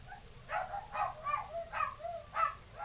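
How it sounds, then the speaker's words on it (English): Several dogs barking in a quick series of yips and barks, fairly close and moderately loud over a low background rumble, with no talking. "we'll just let the dogs bark for just a second"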